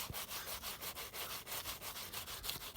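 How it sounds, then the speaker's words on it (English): A brush scrubs a Michael Jordan sneaker with cleaning solution in rapid, rhythmic strokes, a close, soft scratching rub repeating about every fifth of a second, with no talk. "I'm just gonna scrub all around it"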